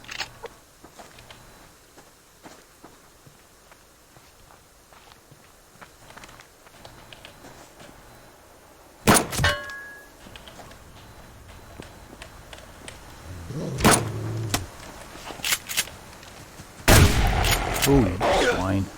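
Rifle gunfire in a video game: a few scattered sharp shots early, then several louder cracks and bursts later on, with speech and other game noise in between.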